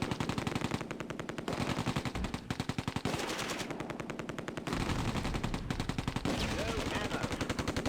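British Vickers and German heavy machine guns trading long bursts in the Close Combat video game, set at Oosterbeek during Operation Market Garden; dense rapid automatic fire, loud and continuous, with overlapping streams of shots and brief gaps between bursts.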